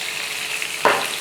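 A seasoned burger patty with black pepper sizzles steadily in a pan, a continuous close hiss that swells into a louder burst of frying near the end.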